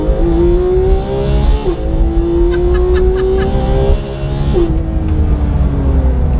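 Porsche 991.2 GT3 sports car on a track shifting down through its manual-style gearbox under hard braking, steady loud engine roar with two sharp rev blips as each lower gear is taken, close and continuous.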